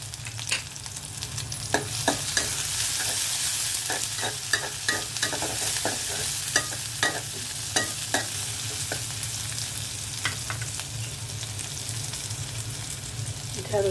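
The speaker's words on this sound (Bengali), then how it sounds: "পেঁয়াজ দিয়ে দিচ্ছি তেলের মধ্যে।" Sliced onions and green chilies fry in hot oil, a steady close sizzle broken by repeated scraping stirs of a spatula against the pan, with no talking.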